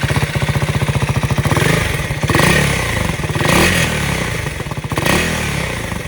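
A KTM 390 Adventure R motorcycle engine idles with a steady throb, then revs up loudly through the exhaust several times, close and alone.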